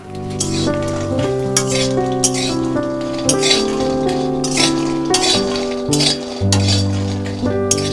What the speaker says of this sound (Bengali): এবার বড়িগুলো দিয়ে লাল লাল করে ভেজে নেব।